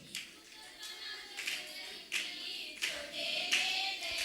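A church congregation at a youth Christmas service claps in an irregular rhythm while singing, the sharp hand claps spaced roughly every half second to second over a faint background of voices.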